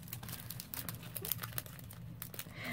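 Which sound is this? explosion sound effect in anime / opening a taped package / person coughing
opening a taped package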